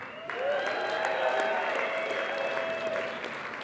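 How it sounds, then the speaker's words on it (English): An audience at a mountaineering talk claps steadily and fairly loudly for several seconds, a dense, sustained round of applause with faint tonal sounds underneath. "Let's clap for them."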